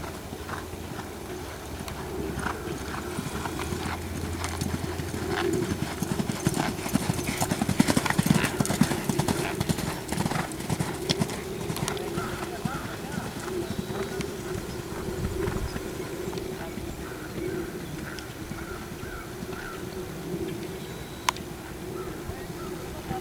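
A mare's hooves clip-clop steadily at a walking pace, close by and fairly constant, while people talk nearby.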